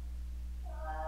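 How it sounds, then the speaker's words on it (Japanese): A cat in the Japanese horror game Uramikko: Tsugunohi Itan 2, set in a school, gives one short, clear meow that rises at the very end, heard over a steady low hum. "猫だよおさっちゃん。"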